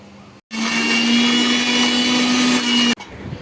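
A mixer grinder whirs loudly for about two and a half seconds, blending onions and tomatoes for a fish curry, with a steady high motor whine that starts and stops abruptly.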